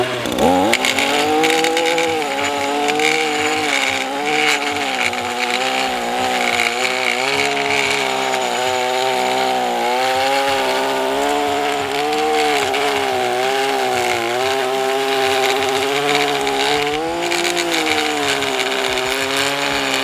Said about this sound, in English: I personally like string trimmers when edging.